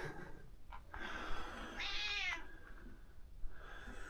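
A black cat meows inside a bus, two or three short close meows with a longer drawn-out cry in the middle, fairly quiet against a low background hum.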